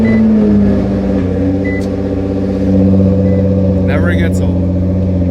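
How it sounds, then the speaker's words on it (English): A widebody Nissan GT-R idles loudly just after a cold start, a steady deep drone with a brief higher whine near the end. "it's been a while since we've had a cold start with the GTR"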